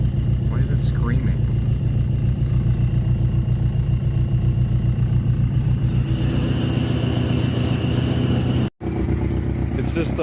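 1986 Jeep Comanche 2.5L engine idling steadily and loud up close, with a thin high squeal from the hood spring riding above the rumble throughout.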